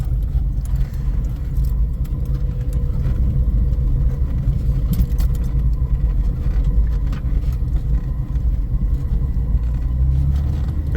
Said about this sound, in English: Slow down, starting to skid.